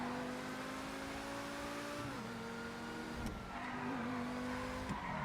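A Trojan T20 sports car speeds through the streets of Los Santos in Grand Theft Auto V, its engine holding a steady high whine with brief gear-shift dips and faint tire noise.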